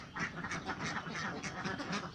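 A flock of laying ducks in a pen quacking continuously, many overlapping calls at a steady moderate level with no pauses.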